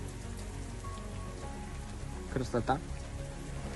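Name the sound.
heavy rain in a forest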